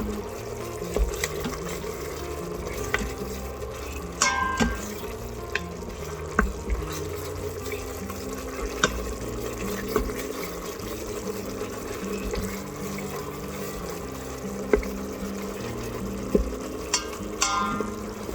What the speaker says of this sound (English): once you put liquid in there and start scraping, all that stuff comes off the bottom pretty easy